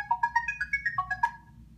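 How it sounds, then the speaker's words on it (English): A Google Tone chime plays a quick, evenly pulsed run of bright electronic beeps, stepping through pitches over under two seconds, broadcasting a URL to nearby computers. "I simply click the tone button and any computers in earshot"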